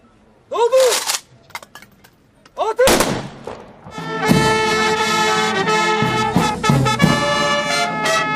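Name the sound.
funeral gun salute volley fire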